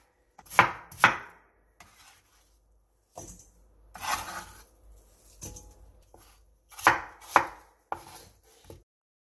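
A kitchen knife julienning carrots into long strips for kimchi on a cutting board, with sharp, close chops coming in short separate bursts between quiet gaps.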